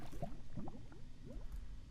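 Short wet sloshing and squishing of water scooped with a bucket in Minecraft, a few quick liquid gurgles close up with a low background rumble.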